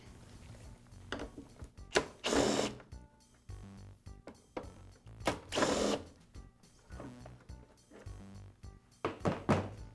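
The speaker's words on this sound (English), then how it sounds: "I'll begin by removing the motor cover." Plastic motor cover being pulled off a Briggs & Stratton small engine, with a series of hollow clunks, snaps and rattling handling noises scattered irregularly at close range, no talking.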